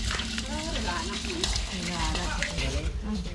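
Food fries in a pan while it is stirred, with a steady sizzle running throughout. Thai-speaking voices talk over the cooking, and the frying stays close and continuous beneath them.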